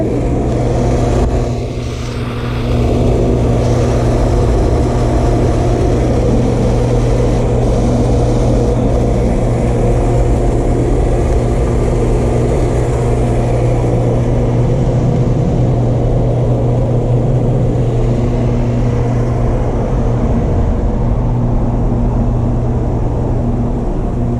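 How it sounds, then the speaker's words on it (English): A steady, loud roar of passing vehicles and engine rumble, continuous throughout with no voices. "You mentioned that the traffic noise was not so bad."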